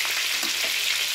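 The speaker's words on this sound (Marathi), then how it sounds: "आता हे छान क्रिस्पी होतं तळून घेऊया।" Prawns frying crisp in hot oil give a dense, even sizzle that stays close and loud for a brief moment, with no voices.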